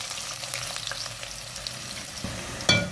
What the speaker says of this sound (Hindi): अब इसमें डालेंगे प्याज और इसको फ्राई करेंगे।